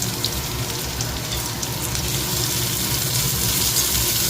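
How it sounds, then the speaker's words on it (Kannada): Chopped medium onion, garlic and curry leaves frying in a pan, a loud continuous close-up sizzle with dense crackle throughout and no talking. "ಎಲ್ಲನೂ ಚೆನ್ನಾಗಿ ಫ್ರೈ ಮಾಡಬೇಕು"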